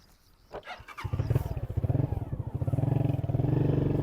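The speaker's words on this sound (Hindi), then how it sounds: "ये मोटरसाइकिल छलांग लगा के ऊपर बैठने वाली है ना" A motorcycle engine catches after a few clattering turns, revs up and settles into a loud, close, pulsing rumble as it rides off.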